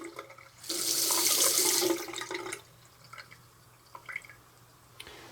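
Water gushes loudly from a tap for about two seconds, then cuts back to quieter drips and splashes in a small room.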